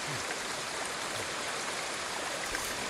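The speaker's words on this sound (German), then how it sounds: "Warte mal gerade, bis der Wasserfall hier weg ist, der ist nämlich gerade ziemlich laut." A waterfall in the video game Ghost of Tsushima gives off a steady, dense hiss of falling and splashing water, even in level throughout, with no voices.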